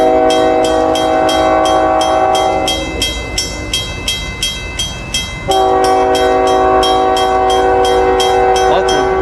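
A train horn blasts loud and close in long, sustained tones, cuts out for a few seconds, then sounds again, with rail rumble underneath throughout.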